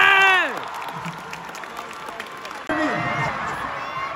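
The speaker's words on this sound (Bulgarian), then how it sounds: "Аплодисменти за баба Маца!" A crowd claps and cheers for a grandmother at a lively indoor house event, with bursts of shouting and whistles, a brief dip, then a renewed surge of cheering near the end.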